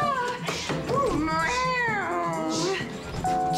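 Cartoon cat meowing in a French animated series, a run of drawn-out, wavering, yowling meows that rise and fall in pitch, loud and close, with a short flat tone near the end.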